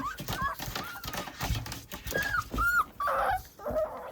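Puppies at a countryside kennel whimper and yip in repeated short, high, wavering cries, close by and fairly quiet, with scuffling movement between them.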